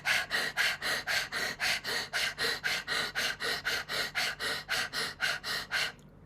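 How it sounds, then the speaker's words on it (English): Rapid rhythmic panting breaths from a yoga breathing exercise done with the tongue out, about twenty quick even huffs in steady rhythm, close and clear, stopping abruptly near the end. "and then do a panting dog pranayam"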